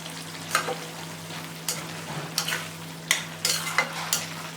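Pav bhaji bhaji simmering in oil in a pan, a steady soft sizzle under a low hum, broken by several sharp scraping stirs of a spoon against the pan.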